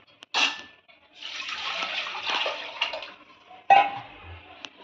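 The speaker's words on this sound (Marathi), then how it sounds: "आता ह्यात आपण पाणी घालून घेऊ" Water pours into a pot of washed rice for chicken biryani, a close splashing stream that runs for a few seconds after a short initial splash, followed by one more brief splash.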